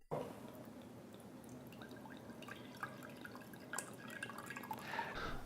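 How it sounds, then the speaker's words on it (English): Water is poured into a container that holds a small shot glass, producing a quiet, continuous trickle with scattered drips and light splashes close by. "So we put water."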